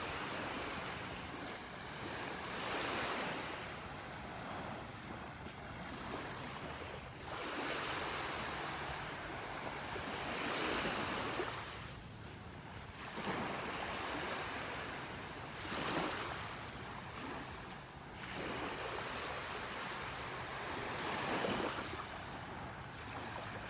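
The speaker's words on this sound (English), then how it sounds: "Just the little waves." Small ocean waves on a beach in North Naples, Florida, on a quiet morning: gentle, rhythmic washes of surf swell and fade every few seconds, with a soft breeze in between.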